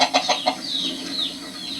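Chickens clucking close by in a poultry yard, a few quick rhythmic clucks followed by a drawn-out rising and falling call.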